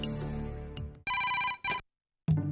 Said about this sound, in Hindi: सोनू, तेरा फोन है।